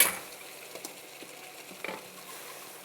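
Pesto pasta salad stirred together in a pot, giving soft, wet scraping and squelching with a couple of brief clinks against the metal; quiet and close, with no talk.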